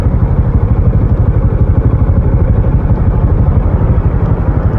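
A 15-year-old 2011 Honda Supra X 125 motorcycle idles steadily up close, its single-cylinder engine giving a smooth, even putter that holds unbroken throughout with no talking.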